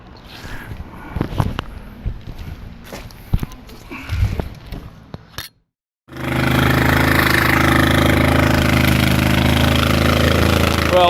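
A 1985 Suzuki GS450 motorcycle engine is cranked with clanking, uneven bursts, falls briefly silent, then fires and settles into a loud, steady, close running drone.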